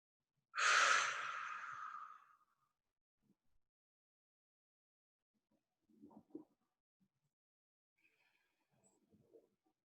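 A single deep, audible exhale during a yoga hip-opener in bound ankle pose, loud and close, followed by long quiet with a few faint soft breaths and rustles.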